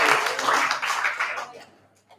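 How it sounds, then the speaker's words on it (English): A live audience claps for Johnny as he is called up to join a song, a dense burst of applause that tapers off and fades out within about two seconds. "Give him a big round of applause."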